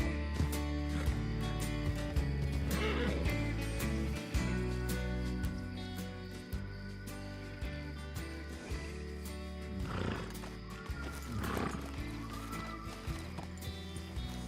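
A horse whinnies a few times over a steady musical background, with hoof clip-clops now and then; the sounds are synthetic and game-like.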